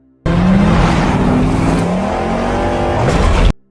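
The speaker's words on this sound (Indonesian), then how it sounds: "April, Vernon, dan keempat kura-kura ninja itu lalu kabur dengan membajak sebuah truk" A hijacked truck speeds away under pursuit in a Ninja Turtles film, a loud, continuous roar of engine and rushing vehicle noise with rising revs, sustained for about three seconds before cutting off abruptly.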